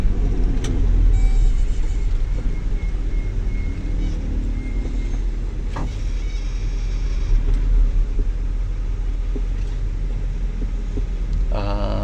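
Road traffic rumbles along a Manila street where roadwork has dug up the pavement, with cars and heavier vehicles passing close by in a loud, steady low drone broken by occasional clanks and knocks.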